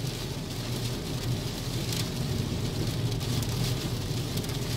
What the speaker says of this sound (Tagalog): Parang may bagyo guys. Sobrang dilim. May kasama pang kidlat at kulog.